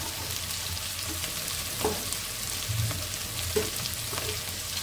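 Eggplant fritters (begun chop) fry in hot oil with a steady, close crackling sizzle that holds evenly throughout, with a few soft knocks and no voices.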